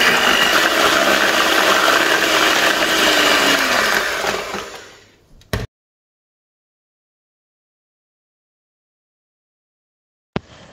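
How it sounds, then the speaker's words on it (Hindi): An electric beater whirs loudly and steadily through a mix of dates, baking soda and hot water, then cuts off abruptly near the middle, followed by silence and a brief click at the end. "चाहें तो पहले आप इसमें बीटर से बीट कर लें"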